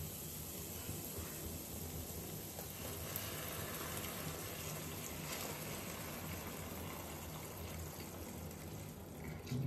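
Milk pours steadily into a cooking pan in a home kitchen, a continuous liquid trickle and fill sound with no speech over it.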